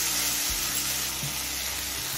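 Ingredients mixed with salt and turmeric frying in a pan for mustard greens, giving a steady soft sizzle with a few faint scrapes and clinks of a utensil.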